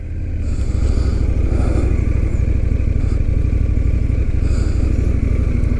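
An Indian FTR 1200 motorcycle pulls away on a test ride, its engine a loud, steady close-up drone that builds from a low idle into a sustained run with faint clatter.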